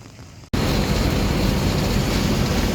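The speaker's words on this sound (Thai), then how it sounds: "ตอนนี้บรรยากาศก็มีฝนหน่อยเนาะ" Rain at Luang Prabang International Airport in Laos: after a brief quieter moment, a dense, loud, steady hiss of rainfall starts abruptly and continues unbroken, with no voices.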